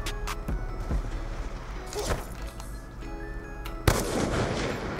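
Gunfire in the video game Black Ops 2, a few sharp single shots spread across the stretch over a steady background hum, with one louder crack near the end.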